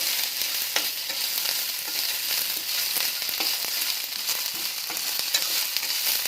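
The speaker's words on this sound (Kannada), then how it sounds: "ನೋಡಿ ಈರುಳ್ಳಿ ಹಾಕ್ಕೊಂಡು ಉರಿತಾ ಇದ್ದೀನಿ ಇವು ಸ್ವಲ್ಪ ಕೆಂಪಗಾಗೋವರೆಗೂ ಹುರ್ಕೋಬೇಕು" Onions frying in a pan with raw ginger for onion chutney, a continuous soft hiss with occasional faint stirring clicks, no voices.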